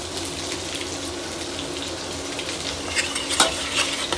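Chopped basil sizzles in a hot pan as it is stirred, a steady close frying hiss with scraping bursts near the end.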